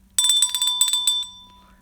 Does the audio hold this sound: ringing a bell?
yes